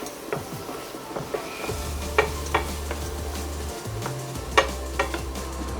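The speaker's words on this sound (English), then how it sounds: "I'll put the butter, the garlic, the thyme and the onions into the fry pan" Butter, garlic, thyme and onions fry in a pan with a steady low sizzle, broken by intermittent scraping stirs and light clicks of a utensil against the pan, close and without talk.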